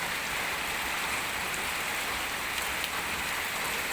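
Heavy rain pours steadily onto surfaces, a dense, continuous hiss of drops close by with no break and no voices.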